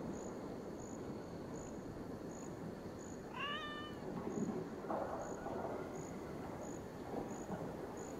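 A cat meows in the game Assassin's Creed Valhalla: a single short, bending meow midway through, moderately clear over a soft bed of rain and wind with regular insect-like chirps ticking in the background.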